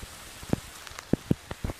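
Rain falling around a camper van at a Walmart parking lot, heard as a soft steady hiss with several distinct louder drop taps landing irregularly nearby, no voices.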